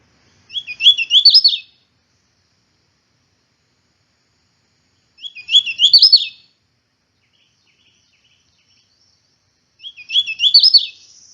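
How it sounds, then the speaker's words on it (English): A male hooded warbler sings in a shelterwood harvest, three short, bright, rolling phrases spaced several seconds apart, clear and close against silence. "It's a really cute little warbler."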